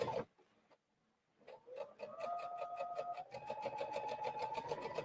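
A sewing machine stitches a quarter-inch seam, starting after a brief pause and then running in a steady, rapid ticking whir, close and moderately loud, alone.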